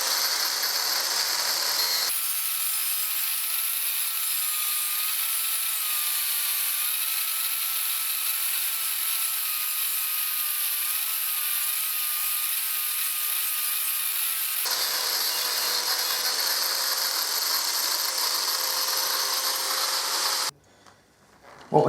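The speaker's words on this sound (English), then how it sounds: "I'm going to be using an angle grinder." An angle grinder cuts through the links of a Kawasaki Z1000SX motorcycle chain with a loud, steady, high-pitched metallic whine that runs almost unbroken for about twenty seconds and shifts slightly in pitch before stopping abruptly.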